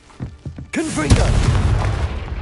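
A Confringo fire spell explodes in Hogwarts Legacy: a short voice and faint taps lead into a sudden loud, deep blast that rumbles and crackles, then fades slowly.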